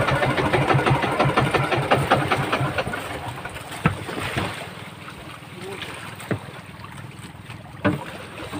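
A fishing boat engine drones steadily with a pulsing chug while out catching skipjack tuna, water and wind noise around it, and voices talking over it now and then.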